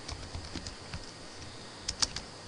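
Keystrokes on a computer keyboard while entering a database query, a scattered run of light clicks with a brief cluster of sharper taps near the end, close and fairly quiet with no talk.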